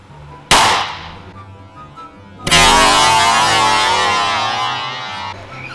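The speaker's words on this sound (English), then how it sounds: "Yep, that'll shoot an earplug out of there." A device test-firing an earplug gives a sharp, loud pop, then a second powerful blast that rushes on in a sustained hiss for several seconds before tailing off.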